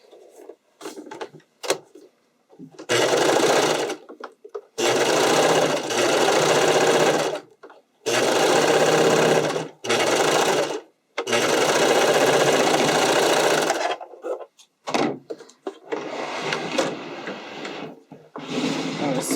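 A sewing machine stitching a spandex sleeve seam runs in several bursts of steady whirring, some long and some short, separated by brief pauses, close and loud.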